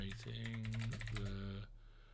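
Rapid clicking of typing on a computer keyboard, close and steady, with a low musical hum beneath it, stopping abruptly near the end.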